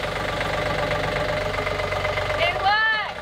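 A Yanmar marine diesel engine on a sailboat runs steadily with a rhythmic knocking chug, loud and close, as voices cheer over it near the end.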